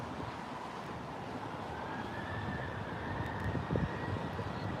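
A Turkish Airlines jet at Heathrow makes a steady, broad engine roar at middling distance, swelling slightly toward the end, with no voices over it.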